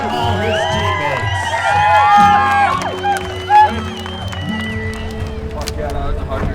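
Crowd at a Blackfeet Indian relay horse race cheering and whooping with scattered shouts and children's cries, fairly loud and lively, while voices talk over the noise.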